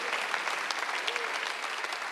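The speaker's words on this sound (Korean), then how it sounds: "믿으시고 박수하세요" A church congregation at a Sunday worship service claps together in steady, even applause, a continuous patter of many hands heard alone at moderate volume.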